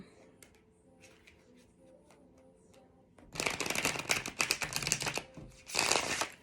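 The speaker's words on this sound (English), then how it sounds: "Give it a shuffle." An Artist's Inner Vision Tarot deck is shuffled by hand, with a quiet, near-silent stretch and then dense, loud riffling card noise for the last three seconds.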